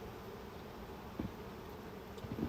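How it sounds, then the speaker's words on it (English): Honey bees hum softly and steadily through a hive inspection, as frames and a feeder are set into a new box during a transfer, with a couple of faint knocks near the end. "And now I'm going to go ahead and get the rest of these bees."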